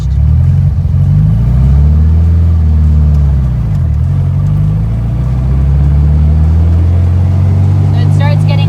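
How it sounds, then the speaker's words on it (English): A manual car engine revs up in first gear, loud and close, its drone climbing from a low growl to a higher whine, dipping briefly, then climbing again. "You'll notice that the motor quickly goes from lower pitched to high pitched."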